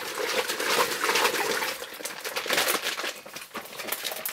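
Grape juice for homemade Chianti wine splashes and sloshes around in a bag, a close, irregular wet churning with crinkling plastic.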